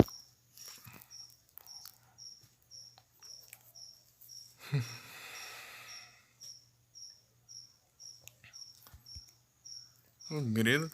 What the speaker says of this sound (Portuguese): O grilo tá frenético. Você tá conseguindo ouvir o grilo aí?